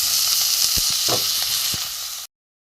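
Grated potato with coriander leaves and garam masala sizzles steadily while being sautéed for a tomato chop, a continuous frying hiss broken by a few scraping stirs before it cuts off.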